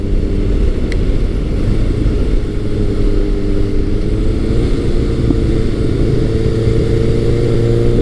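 Kawasaki ZRX1100 retro motorcycle being ridden, its engine droning loud and steady throughout with strong wind rush, the pitch shifting slightly as the bike sweeps along.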